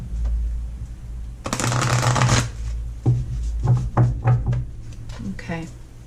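Doreen Virtue Healing with the Angels oracle cards riffled and shuffled up close, a dense rushing burst followed by several short taps and flicks as the deck is squared, with a voice speaking briefly alongside.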